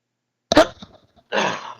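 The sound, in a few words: sneeze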